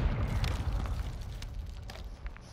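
A grenade explosion in Call of Duty: Modern Warfare II, a loud, rumbling low boom that rolls on across the whole moment with bursts of crackle, no voices over it.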